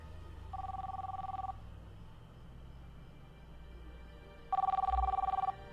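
A telephone rings in two short electronic trilling bursts separated by a few seconds of quiet room tone, at moderate loudness, with no voices over it.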